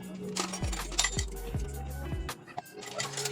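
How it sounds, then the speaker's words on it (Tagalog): Dishes being washed at a home sink, with repeated clinks of plates, cutlery and glass knocking together, close and fairly busy, along with low thumps and faint voices in the background. "Ugas muna ako ng pinggan bago kumain."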